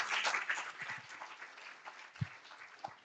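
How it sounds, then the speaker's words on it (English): Applause from an audience at a live industry careers panel event, a brief burst of clapping that fades into scattered, sparse claps with a few isolated knocks. "please give them all a big round of applause"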